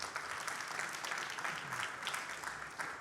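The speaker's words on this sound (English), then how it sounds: "Quick round of applause." Audience applause at the close of a hiring-manager talk at a security conference, a steady broadband patter of many hands clapping throughout, moderately loud and unbroken by voices.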